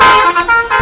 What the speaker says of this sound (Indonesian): Bukan tanpa alasan para pengemudi bis memasang klakson telolet.